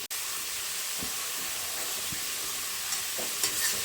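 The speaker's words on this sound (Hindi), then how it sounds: "थोड़ी देर कुक कर लेते हैं टोमेटोज को" Tomatoes cooking in a pan for leftover chapati noodles give a steady, close sizzle and hiss, with a few soft stirring scrapes and no voices.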